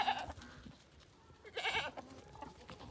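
A baby goat bleats on a farm in cold winter weather, a short quavering cry near the start and a louder, longer bleat in the middle, with quieter farmyard sounds between.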